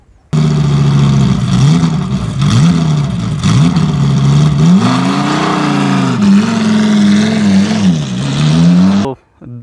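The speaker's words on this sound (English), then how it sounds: "So this is a 800cc 3-cylinder engine" A modified Maruti Alto 800 with an 800cc three-cylinder engine is revved repeatedly. The engine pitch rises and falls in several surges and holds steady and loud for about nine seconds before cutting off sharply.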